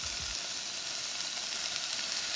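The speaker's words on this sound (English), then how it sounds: "We love to hear that sizzle." Onion, Anaheim pepper and tomato sizzling in olive oil in a pan, a loud continuous hissing fry that holds steady from start to finish, with nothing over it.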